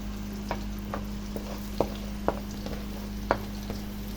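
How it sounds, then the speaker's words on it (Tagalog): Garlic fries in a pan of melted margarine and oil, giving a continuous close sizzle broken by a few sharp clicks of stirring against the pan. "hayaan lang muna natin na ma-fry at lumabas ang aroma ng garlic"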